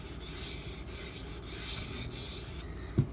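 A Spyderco Salt H1 knife is drawn across a water stone in about five close, rhythmic rasping strokes, ending with a light knock.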